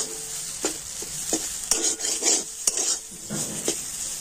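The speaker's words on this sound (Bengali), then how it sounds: "এই সমস্ত মশলা আমি আলুর সাথে খুব ভালোভাবে এইভাবে নাড়াচাড়া করে নেব।" Spiced potatoes coated in garam masala and chaat masala are stirred in a pan, a soft sizzle broken by irregular scrapes and clinks of a spoon against metal, close and alone.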